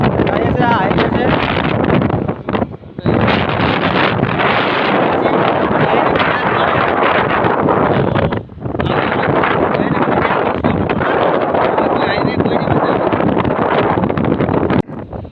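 Heavy wind rushes steadily over a microphone on a motorbike riding along a highway, loud and continuous with two brief dips, while someone talks throughout.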